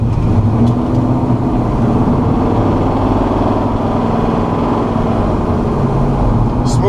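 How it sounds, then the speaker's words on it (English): A 1971 Chevrolet C-10 Cheyenne pickup with a 396 engine and Cherry Bomb exhaust rumbles steadily at a low, throaty idle or cruise, close and loud with no talking. "that cherry bomb exhaust on this thing just makes it just sound that much more badass"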